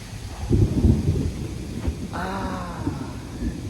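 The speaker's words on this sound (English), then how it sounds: "Thunder, the good stuff." Thunder rumbles at a construction site during a storm, a loud low roll swelling early and then fading into a steady background rumble, with no one speaking.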